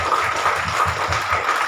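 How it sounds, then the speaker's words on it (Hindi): A church congregation claps together in praise, a steady dense patter of many hands with a loose rhythmic pulse, close and fairly loud for a brief moment. "ताली बजाए परमेश्वर देवता के लिए"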